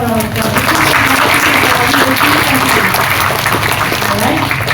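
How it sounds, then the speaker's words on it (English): An audience at a women's convention breaks into loud, sustained applause, a dense wash of clapping filling the hall throughout, with a few voices faintly underneath. "I think we need to give Ustazah another round of applause."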